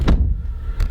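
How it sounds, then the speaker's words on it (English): A car door with a leather-redone interior shuts with a solid, close thunk, followed by a second brief knock a moment later. "If you close the door, sounds pretty solid."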